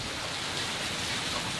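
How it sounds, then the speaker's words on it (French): Steady rain falls on a boat as an even, dense hiss of drops, with no talking over it. "il pleut. Encore et encore."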